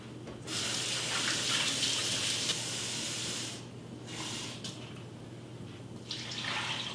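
Water pouring from a tap into a soup pot for turkey carcass soup, a steady close splashing rush that pauses briefly twice before resuming, with no talking.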